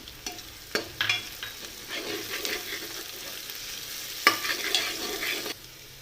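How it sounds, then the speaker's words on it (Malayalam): Onions and green chilies sautéing in oil in a pan for a Kerala-style liver fry, a close sizzle broken by sharp clatters of a spoon stirring against the pan. "സവാള നന്നായിട്ട് വഴരണം ഇതിലേക്ക് നമുക്ക് പച്ചമുളക് ഇട്ട് കൊടുക്കാം"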